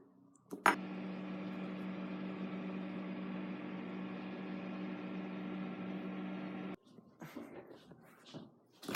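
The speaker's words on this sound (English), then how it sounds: "So let's put it in the microwave." A microwave oven hums steadily for several seconds after a door clunk, then stops, followed by faint clatter and handling sounds.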